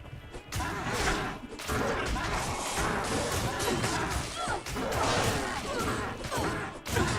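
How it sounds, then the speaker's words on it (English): Paladin battling monsters in Diablo 2, with dense, continuous crashing and thwacking melee hits and swooshes piling up in a loud, chaotic stream, a voice occasionally breaking through. "Smashing everything in sight."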